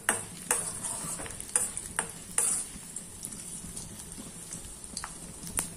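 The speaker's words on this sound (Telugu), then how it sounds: "అలాగే వెల్లుల్లిపాయ, మినపప్పు అండి, ముందు ఫ్రై చేసుకోవాలి." Garlic and urad dal fry in about four tablespoons of hot oil, giving a soft continuous sizzle broken by scattered sharp pops and light ticks of stirring.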